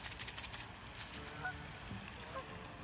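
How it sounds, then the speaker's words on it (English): Geese by a creek give a quick run of rapid, fairly close honks, then a few scattered fainter calls over soft outdoor background, with no voices. "The geese have entered the chat"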